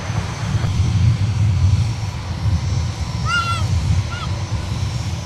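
A Delta Airbus A330neo departs Minneapolis–Saint Paul airport in winter, bound for London Heathrow, with a loud, steady jet roar filling the scene while a crow caws briefly partway through.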